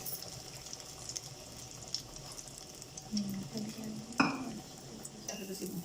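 Chicken potato nuggets fry over a low flame in a kadai, with a soft, faint sizzle, a few light clinks and scrapes, and one sharper clatter near the end.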